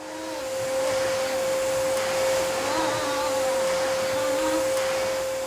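A vacuum cleaner switches on indoors, its motor rising quickly to a loud, steady whine with a strong constant pitch that holds without a break.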